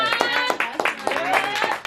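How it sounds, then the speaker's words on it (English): Several people clap their hands together at the start of an interview show, a brisk, close burst of uneven claps with voices mixed in. "We're going to do a clap."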